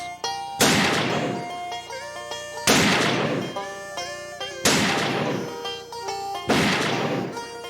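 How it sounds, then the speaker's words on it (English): Black powder .50 caliber rifles fire at targets on a range, four loud, evenly spaced booming shots, each with a long ringing decay, and no talking between them. "we loaded our .50 caliber rifles. Then, when everything was ready, we fired at some targets"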